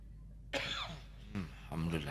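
A man coughs twice in a quiet room, two sharp, close coughs separated by a short pause, with a brief spoken sound at the end.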